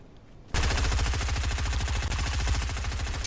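SMG fire in a video game rips out in one long, rapid continuous burst after a brief quiet start, loud and close with no talk over it.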